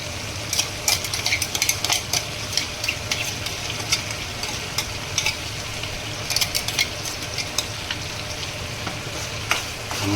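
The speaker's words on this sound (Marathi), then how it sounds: "हलवून घेऊया आपण प्रॉपर" Prawn masala sizzles in a pan while a metal spoon stirs and scrapes it, giving a steady frying hiss punctuated by frequent sharp clinks and scrapes, close and fairly loud, with no talking.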